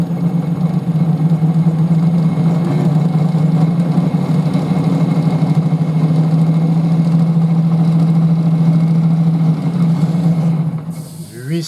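A wood lathe turns a 300 mm by 95 mm bowl at 800 rpm with a steady rest. It gives a loud, continuous low hum with an even mechanical drone throughout, which tapers off at the very end.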